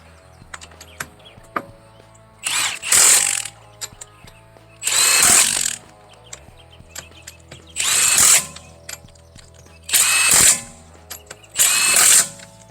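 A Toyota Prius stabilizer link is driven by an impact wrench with a flip socket, firing in five loud hammering bursts of about a second each, separated by short quiet gaps with faint clicks.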